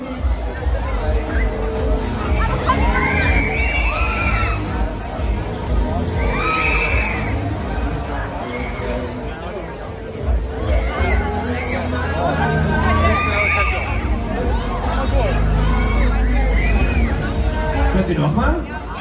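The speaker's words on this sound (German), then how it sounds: "Danke für Applaus!" A crowd at the Basler Herbstmesse autumn fair shouts and cheers near a fairground ride, with children's high whoops rising repeatedly over continuous loud babble and a deep rumbling ride noise underneath.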